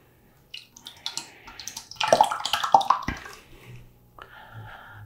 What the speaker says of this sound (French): je vais rajouter un peu d'eau dedans